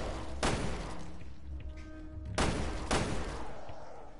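Gunshots in Resident Evil Revelations 2, three sharp loud blasts: one early, then two close together after a pause, over a steady game ambience.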